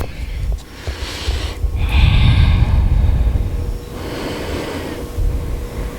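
Deep, slow yoga breaths, a long audible inhale swelling then easing into a drawn-out exhale, close and fairly loud, with soft breathy texture and no talking.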